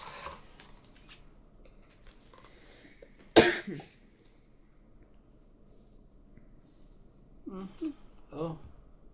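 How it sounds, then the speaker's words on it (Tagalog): During a tong-its card game, a person gives one sharp, close cough in an otherwise quiet room, followed a few seconds later by a couple of softer vocal bursts. "Inuubo ako"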